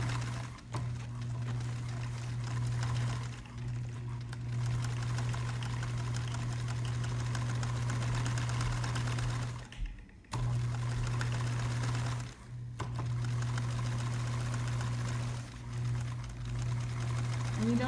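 A sewing machine running a small zigzag stitch along a backpack seam, a steady close hum with a pronounced low drone, pausing briefly a few times before resuming.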